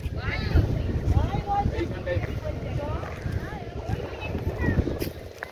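Strong wind blows across the open shore of Chilika lake, buffeting steadily and loudly throughout, with people's voices partly under the gusts.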